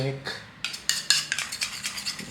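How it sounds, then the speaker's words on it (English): A spoon stirs ingredients in a bowl into a dark paste for egg hakka noodles, giving quick, close clinks and scrapes in an uneven rhythm with no talking. "mix the whole thing. It becomes a nice dark paste."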